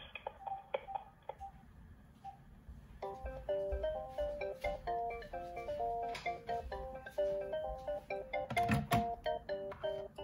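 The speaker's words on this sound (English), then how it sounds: "Now let's transfer the call to the second handset." An AT&T EL52303 DECT 6.0 cordless phone handset rings during a call transfer. Faint electronic tones come first, then a steady repeating melodic ring pattern fills the rest, near and clear.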